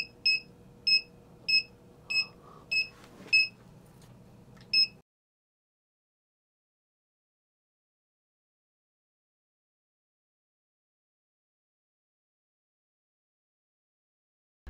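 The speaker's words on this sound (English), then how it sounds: "if I bring my hand here, so the beep starts speeding" A small electronic buzzer on an ESP32 car reverse range warning project gives seven short, sharp beeps about half a second apart, fairly faint, then falls silent.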